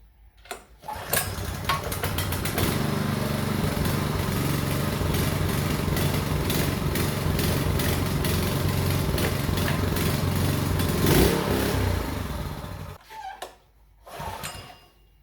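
A small motor on a repair bench sputters into life and keeps running in a loud, continuous buzzing drone for about eleven seconds, then cuts out with a brief stutter and a short restart.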